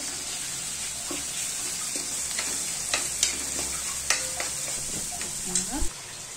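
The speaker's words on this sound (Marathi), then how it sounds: "हा बघा आता आमचा कांदा लालसर झालेला आहे।" Onions frying to a reddish brown in a pan for a Marathi sprouted moth bean usal, with a steady sizzle and several sharp scrapes and clinks of the stirring spoon. No one speaks over it.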